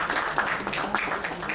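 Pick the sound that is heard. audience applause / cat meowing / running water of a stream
audience applause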